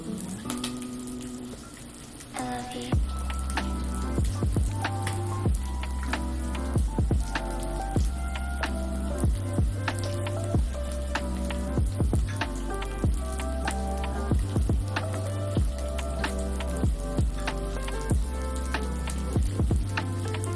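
Sausage gravy cooking in a pan while being stirred, a bubbling sizzle broken by regular scraping strokes and clinks that repeat in a steady rhythm, close and fairly loud, no voices.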